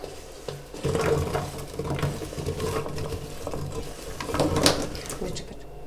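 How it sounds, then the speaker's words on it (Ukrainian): Chunks of cut apple tumble into a saucepan, giving a series of close, uneven thuds and rattles with a louder clatter near the end. "В каструлю я всипаю яблука."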